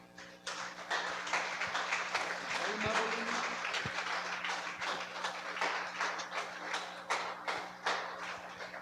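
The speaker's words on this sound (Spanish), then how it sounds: "Denle un fuerte aplauso al Señor." Congregation applause at a church service, a steady patter of many hands clapping at moderate distance, fairly faint, with a low steady hum underneath.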